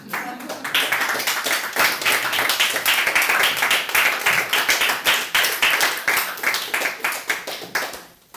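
An audience at a magic show in a small Paris gallery claps steadily, a dense patter of many hands that holds strong for about eight seconds before fading out at the end.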